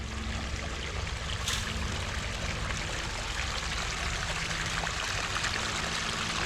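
Steady rushing water flows continuously at moderate volume, with a broad, even wash of sound and no voices.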